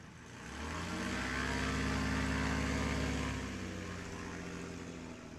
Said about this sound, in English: From Albuquerque, New Mexico, in race 53, a 1953 Cessna 180, Don Mickey